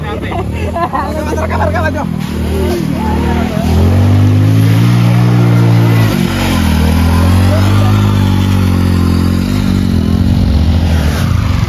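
A motorcycle engine revs and roars up close in a rural village setting. The pitch climbs and holds in long surges, with background chatter from people around.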